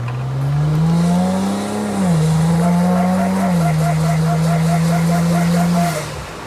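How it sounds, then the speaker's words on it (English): A low-mount twin-turbo car surges under boost, its loud droning engine note wavering up and down while a rapid fluttering chatter from the compressors pulses over it, with talk underneath. "Now we had massive compressor surge."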